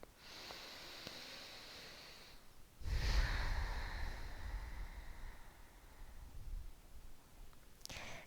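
Slow, deep breaths are drawn during a reclined yoga pose, a soft airy inhale followed by a longer, louder exhale close by, then a faint sniff at the end.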